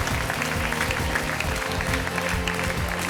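Studio audience applause on a Hindi television game show, steady and continuous beneath loud rhythmic background music with a pulsing beat.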